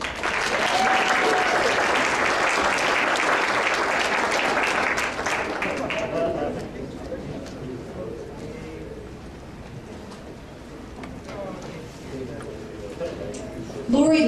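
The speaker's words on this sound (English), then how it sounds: "Let's give a round of applause for Kay Klinkenberg." A crowd at a volunteer recognition event applauds an honoree, strong clapping for about six seconds that thins out under a speaking voice and murmuring room noise.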